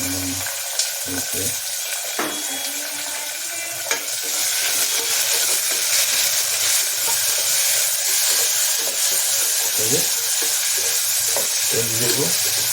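Curry leaves and sliced onions sizzle and crackle steadily in hot oil, with a spoon stirring and scraping the pan now and then, close and loud throughout.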